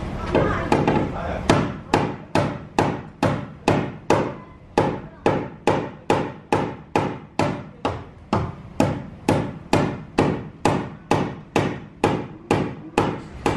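A hammer strikes a car body seam seal about two dozen times, delivering loud, sharp, evenly spaced blows in a steady rhythm with no talking.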